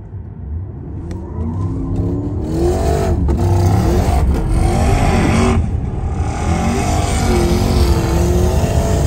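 Cars launch hard in track mode and accelerate flat out, engines rising in pitch through rapid climbing revs with brief shift gaps, loud and close for the whole run.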